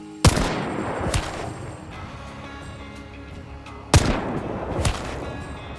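Nitro rifle firing explosive ammo in Hunt Showdown, two sharp, loud shots a few seconds apart, each followed by a booming echo that fades out.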